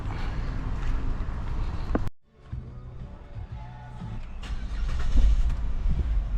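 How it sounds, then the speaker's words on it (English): A car engine turns over and catches, then settles into a low steady idle inside a car park, with a brief pause in the noise just before the start. "let's start the car"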